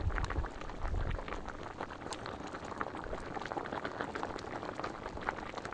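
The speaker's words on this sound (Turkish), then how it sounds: "Kaynadı bakın." Thick tomato and pepper sauce bubbling steadily in a pot, with dense popping and gurgling, plus a few low thumps at the start.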